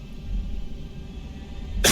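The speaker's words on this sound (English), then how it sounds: "sorry for that cough in your ears" A single loud cough bursts out at the very end, after a steady low background rumble from an X-Plane 12 flight simulator cockpit.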